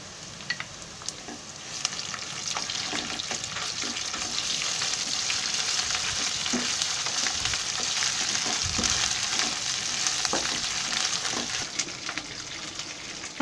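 Ginger garlic paste spits and sizzles in hot oil for a broccoli veg biryani, the frying starting quieter and then swelling into a steady, close crackle with scattered sharp pops and stirring clicks, no speech.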